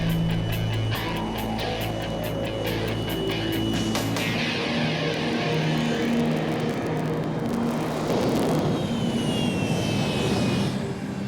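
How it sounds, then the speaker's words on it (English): Jet engines roar and blast jet wash across a car, a loud continuous rushing thunder with a tonal whine, steady and close throughout. "these jet engines still pack a punch"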